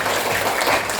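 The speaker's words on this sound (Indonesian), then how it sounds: "Ya, bagus, tepuk tangan." A classroom of students applauds a classmate, a dense, steady wash of clapping filling the whole moment without pause.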